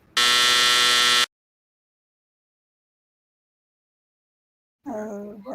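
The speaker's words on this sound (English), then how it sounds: "I'd be over here pushing that buzzer button" A harsh electronic buzzer blares once for about a second, loud and steady, followed by silence and then a voice speaking.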